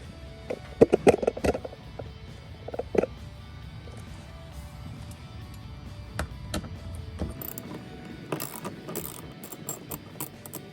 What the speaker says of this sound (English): So we got a ratchet.